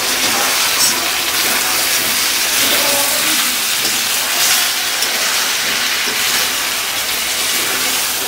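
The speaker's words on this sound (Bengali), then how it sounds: "এখন জাস্ট আস্তে আস্তে এখন পরিমাণ মতো জল দিয়ে আলু দিয়ে একসঙ্গে ঢাকা দিয়ে দেবো।" Chicken kosha cooking in a pan as water and potatoes go in, giving a steady, loud, broadband hiss and sizzle that runs without a break and has no talk over it.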